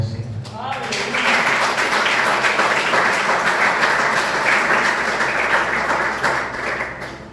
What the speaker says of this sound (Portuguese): E as palmas louvam a você.